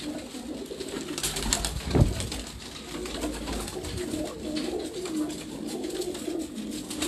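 Pigeons cooing on a rooftop in Larkana, Sindh, with soft repeated coos over steady outdoor background noise and a brief thump near the start.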